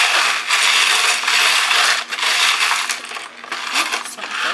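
Small metal charms rattle and clatter in continuous bursts as they are cast onto a reading chart, a loud close jingle like shaken coins with brief pauses.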